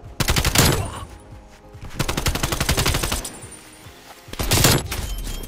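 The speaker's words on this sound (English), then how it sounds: "Let's see what this strafe run do." An air strike strafe run in Call of Duty Cold War rips out rapid machine-gun fire in three loud, sustained bursts of dense shots, with short pauses between them.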